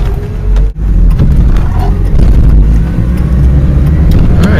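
A Toyota RV with a four-speed stick shift and a replaced brake line pulls away, its engine a steady, loud low rumble with a brief dip near the start before the drive continues evenly.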